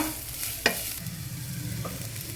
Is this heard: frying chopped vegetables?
yes